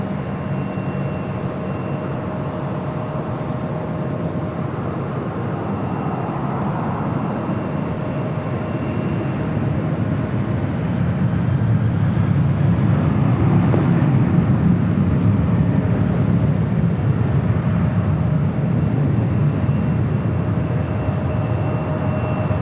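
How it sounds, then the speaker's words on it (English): An Air France Boeing 777-300ER touches down at LAX, a steady broad jet roar that swells louder past the midpoint and holds as the airliner rolls along the runway. "Air France, the 777-300ER, flight 72 coming in from Paris, touching down on the south side."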